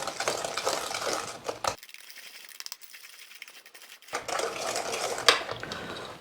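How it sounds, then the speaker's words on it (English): A spoon scrapes and stirs sugar through brownie batter in a bowl, a gritty, grainy swishing in close bursts with a quiet pause between strokes. "I've got to keep stirring until I can no longer hear that grainy sound."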